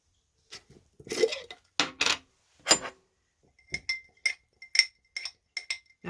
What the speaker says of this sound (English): let me get my ghee open here